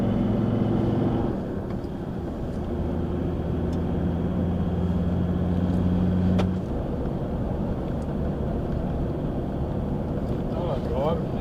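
A car driving on an outback road between Min Min and Boulia, heard from inside as a steady loud engine and road drone with a shifting tone midway, while people talk over it.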